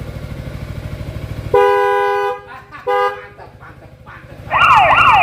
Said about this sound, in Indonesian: Bunyinya klaksonnya bro, bunyi klaksonnya.